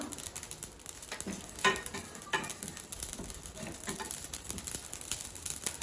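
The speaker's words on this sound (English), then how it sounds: "fry everything for 30 seconds" Fennel seeds, cumin and shahi jeera fry dry in a pan for garam masala, giving a continuous close crackling sizzle dotted with small pops and stirring scrapes.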